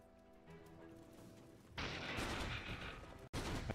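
Gyrocopter's Flak Cannon attacks in a Dota 2 match, a dense burst of rapid booming gunfire that erupts partway through after quieter game sounds, loud and sustained with a brief cut before resuming.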